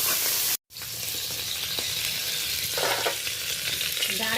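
Crab claws fry in a hot pan with a loud continuous sizzle, broken briefly by a short gap, then steady crackling with occasional stirring scrapes.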